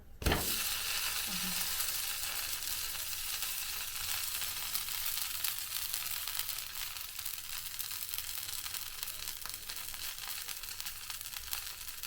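A dosa sizzling on a hot pan just after being flipped, a bright continuous close hiss that starts after a brief clatter and holds steady and fairly loud, with no talking.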